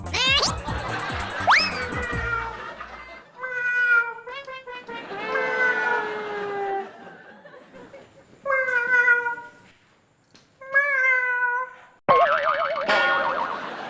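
A voice mimics a cat, producing a series of drawn-out meows and yowls with short pauses between them, close and fairly loud, with no other talk.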